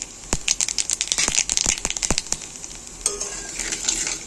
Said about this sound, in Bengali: উচ্ছে ভাজা গরম তেলের মধ্যে দিয়ে দিলাম কালো জিরে।